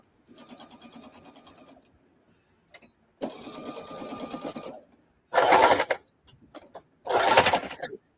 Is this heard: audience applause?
no